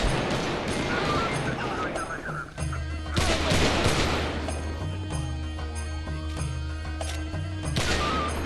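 A firefight in GTA V FiveM roleplay, with dense volleys of gunfire, sharp cracks and bursts layered over a steady rumble, loud and continuous, while players talk over the shooting.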